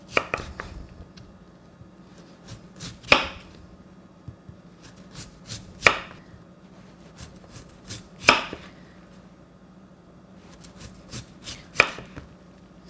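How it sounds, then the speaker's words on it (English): Radish being sliced into julienne matchsticks on a cutting board for napa cabbage kimchi, irregular bursts of quick knife taps with louder sharp chops every few seconds, close and clear with no talking. "So I will start to slice."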